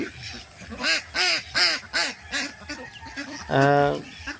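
Ducks on a farm pond stocked with fish quack in a rapid series of loud, close calls, ending in a longer nasal honk.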